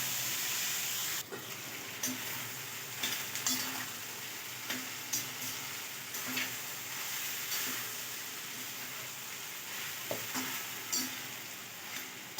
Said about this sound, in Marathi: 5 मिनिटं आपण यांना छान असं तेलामध्ये वाफवून घेतो आहे